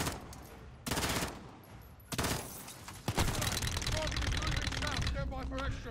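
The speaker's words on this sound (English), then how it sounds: "The gunshots, of course." Gunfire in Call of Duty: Modern Warfare (2019), loud rapid automatic bursts in several separate volleys, with a voice talking over part of the shooting.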